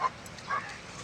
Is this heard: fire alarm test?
no